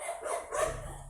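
Two quick dog barks in fast succession from dogs in a town square, moderately loud and a little distant, with no voices.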